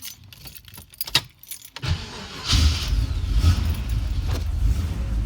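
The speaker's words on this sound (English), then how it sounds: "I'll let you be part of the first start for a little bit, and we'll let it warm up" Keys jingle and a few clicks come first, then an old 1980 Vert engine with no choke cranks and catches, settling into a steady, rough low rumble close by.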